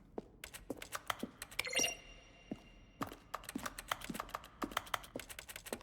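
Fingers typing on a computer keyboard in The Stanley Parable: Ultra Deluxe, with crisp, irregular clicks at close range and short pauses, quiet and alone.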